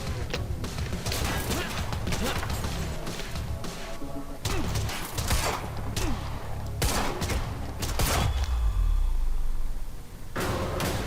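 Rapid bursts of gunfire from the Quantum Break video game, with repeated loud shots in clusters, crashes and impacts, and a voice talking now and then over the action.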